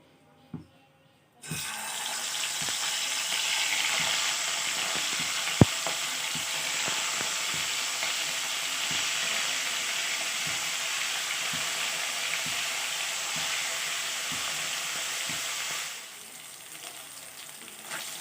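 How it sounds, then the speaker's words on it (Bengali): Rohu fish coated in salt, turmeric and chili powder lands in hot oil and sets off a loud, close, continuous sizzle that lasts about fourteen seconds and then fades, with occasional pops and utensil taps and no talk. "রুই মাছে লবণ হলুদ আর মরিচের গুঁড়া মাখিয়ে রেখেছিলাম এই মাছটা তেলের মধ্যে দিয়ে ভেজে নেব"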